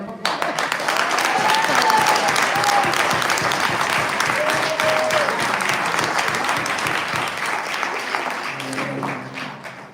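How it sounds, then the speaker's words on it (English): At a village board meeting, the audience gives sustained, dense applause that fills the room for several seconds, with some voices and whoops mixed in before a speaker begins. "Give yourselves a round of applause."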